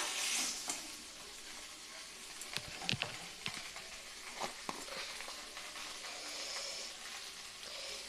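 Spices sautéing in a pan for a Bengali fish curry with papaya and potato: a steady, fairly soft sizzle with occasional clacks of a spoon stirring.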